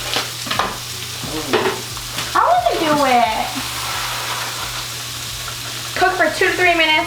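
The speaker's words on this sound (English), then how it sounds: "Cook, stirring until onion is softened and rice is translucent." Onion and rice frying in a pot, a soft steady sizzle with scraping stirs of a utensil against the pot, close by and fairly loud, with a person talking over it at times.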